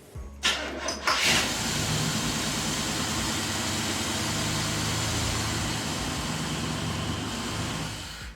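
A 1972 Chevrolet Impala with EFI and a high torque starter cranks briefly with a couple of sharp bursts, then catches and settles into a loud, steady running roar, heard close up.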